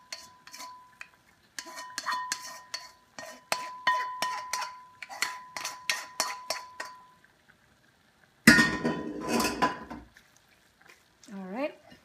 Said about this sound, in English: I'm just going to go ahead and throw this back into our serving bowl.